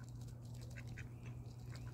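Ducks quacking in short, scattered calls over a steady low hum, a pair visiting near a backyard bird feeder.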